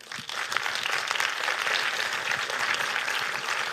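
A conference audience at a livestreamed event gives a sustained round of applause: dense, even clapping from a crowd with no voices.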